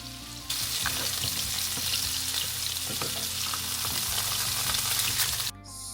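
Salmon fillet searing in a hot pan gives a loud, steady close-up sizzle that starts abruptly, holds for about five seconds with small crackles, and cuts off near the end.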